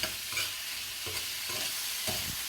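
Fish seasoning is stirred over fish in olive oil in a pan, a soft steady sizzle of frying broken by several scraping strokes of the spoon at a close, moderate level.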